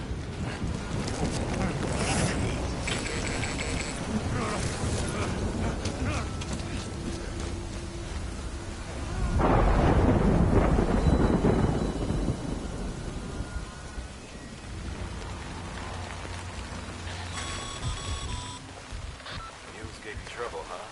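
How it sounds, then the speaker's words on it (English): Steady rain falls with rolling thunder in the video game Death Stranding, building to a heavier rumble midway, with a voice talking over the storm at times. "Good thing it was raining."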